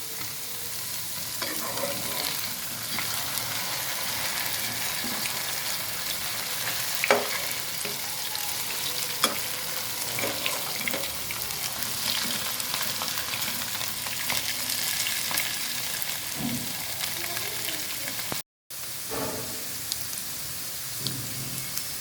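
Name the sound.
potato wedges frying in a pan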